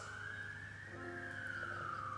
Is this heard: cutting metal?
no